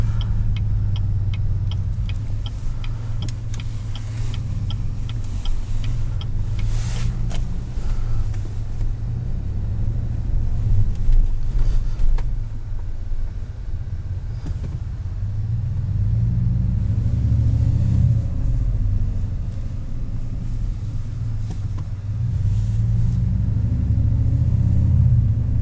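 A 2019 Cadillac Escalade Platinum with a 6.2 V8 and loud exhaust rumbles steadily from inside the cabin, a deep drone that swells and eases as the engine revs, with faint ticking at the start.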